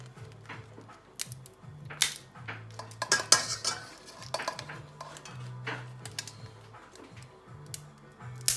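Large blue crab legs being cracked with a metal utensil, quiet clicks and sharp snapping cracks at irregular intervals amid scraping and clinking of metal against shell and dish.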